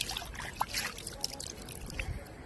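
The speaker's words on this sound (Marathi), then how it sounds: "खूप शांत असं वाहतं पाणी आहे" Clear, shallow river water runs over sand in the Pravara river, a soft, quiet trickle and gentle burble that stays low and steady throughout.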